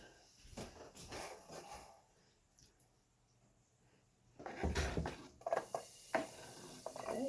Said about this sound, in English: Okay, you hear the sizzle.